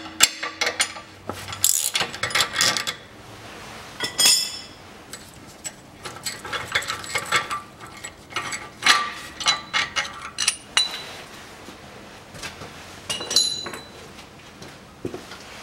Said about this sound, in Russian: откручиваю